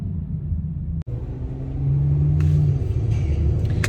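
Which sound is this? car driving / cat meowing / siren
car driving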